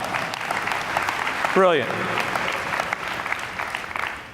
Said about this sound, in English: Give Todd a round of applause.